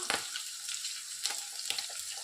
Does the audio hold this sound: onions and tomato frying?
yes